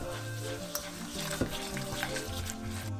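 Flour being stirred into melted butter in a saucepan produces a continuous frying sizzle, with occasional light knocks of the spoon against the pan.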